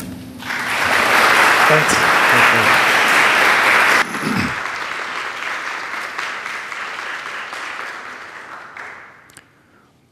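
Audience applause welcoming the dean of a theological school to a lecture, a loud, dense clapping that swells then eases and thins out over about ten seconds, with a brief word spoken near the start.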